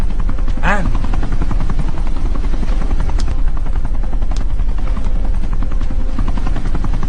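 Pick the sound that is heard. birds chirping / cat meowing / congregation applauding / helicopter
helicopter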